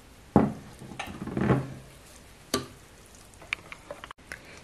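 Butter melts in a hot pan for pumpkin soup, giving soft sizzling with a few sharp utensil taps and scrapes at irregular moments, close and fairly quiet.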